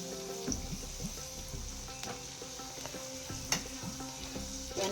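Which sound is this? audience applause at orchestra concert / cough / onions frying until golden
onions frying until golden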